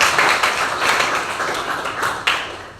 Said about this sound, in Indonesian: coba tepuk tangan untuk dari semua